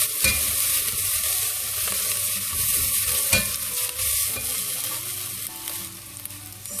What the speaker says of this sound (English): So I'll let my garlic and ginger saute a bit in the olive oil.